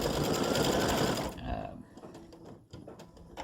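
An embroidery sewing machine stitches a decorative pattern with a fast, steady mechanical whir for about a second, then stops, leaving quiet handling noises and faint clicks.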